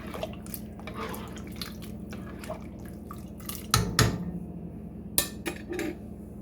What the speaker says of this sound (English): just a little bit of this Louisiana hot sauce, just a little bit. And I'm going to give that a stir.